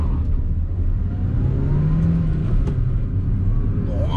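A Hyundai HB20 1.6 car accelerates on a road drive, its mid-pitched engine rumble steady and close throughout with a brief rising whine in the middle.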